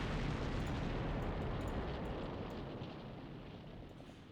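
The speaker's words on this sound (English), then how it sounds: "Oh, that's another bomb there." Bomb explosion in the Combat Mission: Cold War wargame during a motor rifle regiment river assault: a loud, broad, rumbling blast that rolls on and slowly fades, with no speech.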